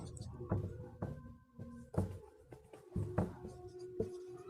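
Numbers written on a board during a maths lesson on divisibility rules: a series of distinct tapping and scratching strokes comes at irregular intervals, close and fairly quiet, with faint speech-like sound in the background.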